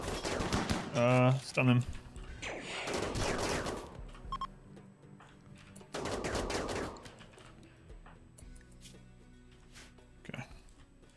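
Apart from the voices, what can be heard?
chain shotguns firing in the video game RimWorld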